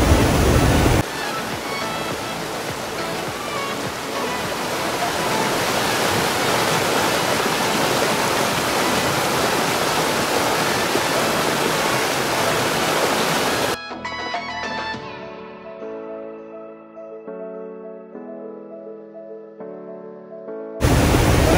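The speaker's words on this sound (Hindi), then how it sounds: "ये देखिए आबशार, ये आबशार है, ऊपर से पानी आ रहा है" A waterfall pours down from above in a loud, steady, broadband roar of water that fills most of the clip before it abruptly gives way to music.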